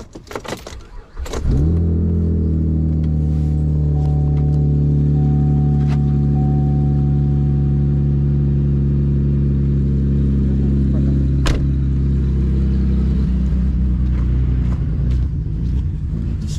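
A car with a starting problem cranks and catches after a short clatter of keys, then runs loud and close with a deep steady rumble and slight revving, and a faint click partway through.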